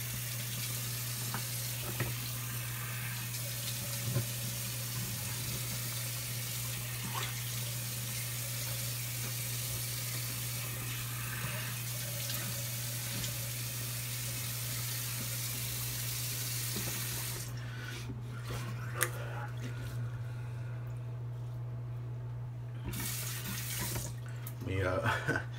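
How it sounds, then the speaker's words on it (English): Water runs steadily from a tap for a rinse after shaving with a badger brush, a continuous broadband splash with a loud mains hum underneath, occasional small knocks, and the flow cutting off briefly near the end. "let me rinse off so I can do my cleanup pass"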